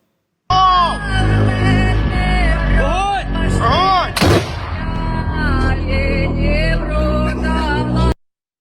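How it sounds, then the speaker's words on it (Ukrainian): A heavy boom of an artillery shot firing a 110-kilogram shell near Bakhmut cuts through loud, steady music, a single sharp blast in the middle of the track. "Десь під Бахмутом 110-кілограмовий снаряд полетів до цілі."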